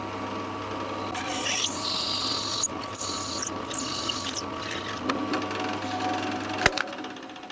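A hand drill bores through the middle of a piece held in a centring jig, a whirring motor rising in short bursts with small pauses, fairly close and moderate in level.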